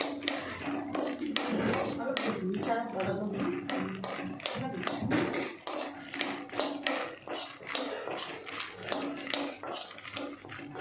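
Makhana (fox nuts) dry-roasted in a pan without oil make rapid, irregular tapping and rattling as they are stirred and tossed against the metal. A voice talks over the first half, and the clicking continues alone afterward.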